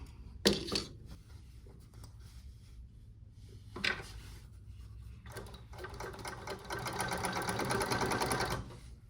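A blind stitch sewing machine hems sheer drapes, opening with a few short bursts and clicks before settling into a steady, continuous stitching whir for several seconds, then stopping.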